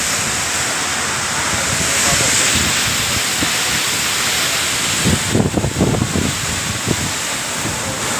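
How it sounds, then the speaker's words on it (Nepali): Wind gusts buffet the microphone beside the Changey waterfall, over a constant broadband rush of falling water, with a few low thumps of wind noise toward the end. "हावा मजाले चल्दो रहेछ है"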